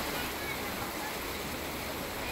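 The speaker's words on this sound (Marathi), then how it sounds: "पाऊस सुरू आहे। पावसामुळे कुशावर्त परिसरातील बाजारपेठेत गुडघाभर पाणी साचलंय।" Steady rain and rushing floodwater fill the market lanes around Kushavarta in Trimbakeshwar, a dense, even roar of falling and flowing water with no breaks.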